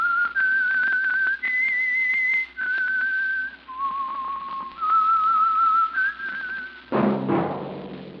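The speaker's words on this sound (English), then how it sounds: "That whistle is your signal for the Signal Oil Program, The Whistler." Solo human whistling of a wistful radio theme melody for the Signal Oil mystery program, a series of sustained, clear held notes stepping up and down, ending with a sudden louder burst of noise.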